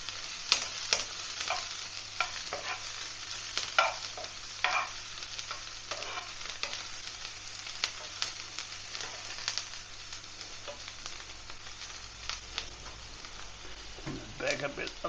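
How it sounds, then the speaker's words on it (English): Onions sizzling in a frying pan while being stirred, with steady crackling fry and repeated scraping stir strokes near and clear, a few soft clinks and a brief low thump near the end. "Just give these onions a bit of a stir."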